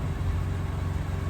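A Ford EcoBoost engine idles after a cold start, giving a steady low rumble at moderate level with no rattle or tick standing out, constant through the short stretch.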